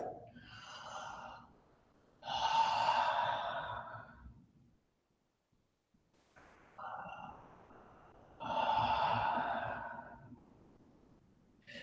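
Slow, deep breaths during a breathwork exercise paired with fluid circular neck movements, each long inhale and exhale loud and close, separated by a short quiet pause.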